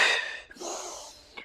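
Sharp, forceful breaths from a breathing exercise done while shaking the arms: a loud rushing exhale, then a quick sniff and a longer breathy inhale, close to the microphone.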